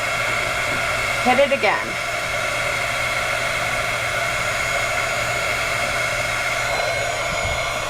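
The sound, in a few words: heat tool blowing hot air on glitter washer necklace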